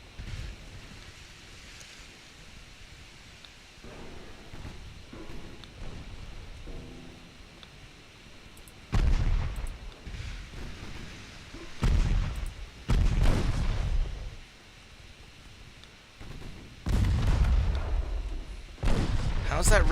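Battleship guns in Ultimate Admiral: Dreadnoughts fire armor-piercing shells in several heavy booming salvos, each a deep rolling blast spaced a few seconds apart, with someone talking between and over them.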